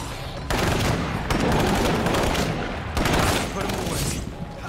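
Heavy gunfire from a big gun in State of Decay 2, aimed at a juggernaut zombie: dense, loud bursts of shots that run almost the whole clip, with a brief gap near the start and a second surge later, mixed with game noise.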